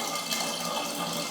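Warm tap water pours steadily into a Pinter home brewing device, a smooth, continuous rushing splash heard close up without any talk.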